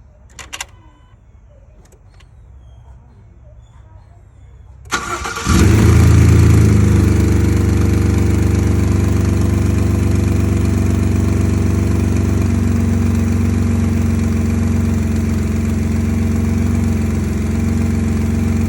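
Ford F150 EcoBoost truck with new coil packs and blow off valve: after quiet faint clicks, the engine cranks and starts with a loud surge, then settles into a steady, close idle hum that runs on alone.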